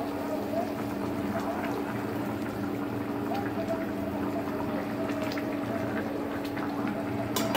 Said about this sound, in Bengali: আমার পানির বলক চলে আসছে।